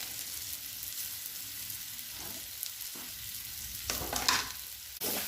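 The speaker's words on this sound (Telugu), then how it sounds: "బాగా కలుపుకోవాలండి." Chicken curry with curry leaves, green chillies and coriander is stirred in a pan, the spoon scraping in irregular bursts over a steady low sizzle, growing louder and busier toward the end.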